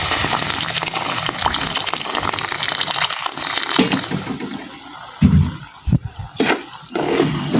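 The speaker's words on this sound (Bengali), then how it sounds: "এখন আমি দিয়ে দিব পানি" Water gushes steadily into a cooking pot of fried potatoes for a broiler chicken tehari, a loud continuous pour lasting several seconds, followed by a few clattering knocks and a brief rushing sound.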